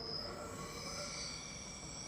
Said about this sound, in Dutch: En dat is de volgende trein die ons weer verlaat.